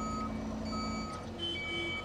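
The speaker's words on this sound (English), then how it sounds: "Dale, he loves to honk that little horn." Construction equipment at a backyard pond dig sounds a short series of high, even electronic beeps, steady tones over a low engine hum, at moderate distance.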